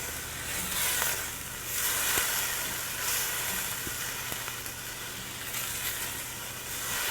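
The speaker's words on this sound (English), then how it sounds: "Those onions and garlic cook really fast because this was a hot pan" Onions and garlic frying in a hot pan, a continuous sizzle and hiss that swells and fades in waves, heard close with occasional small clicks and no talking.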